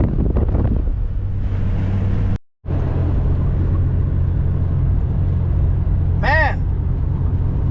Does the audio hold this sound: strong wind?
yes